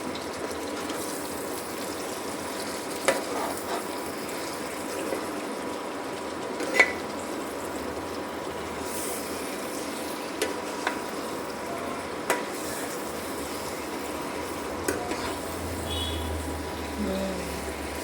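Chicken curry masala is stirred in a pan with a quiet, ongoing scraping and sizzle, broken by occasional soft clinks of the spoon against the metal.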